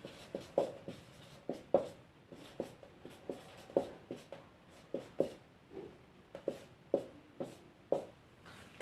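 Chalk or a marker taps and scratches on a classroom board as trigonometry is written, a close, rhythmic series of sharp strokes about twice per second with no talk.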